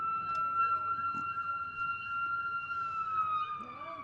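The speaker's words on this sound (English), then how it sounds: "We've got some sirens going by." Wailing sirens sweep up and down steadily in the distance as they pass during a high school baseball game, with faint background murmur underneath.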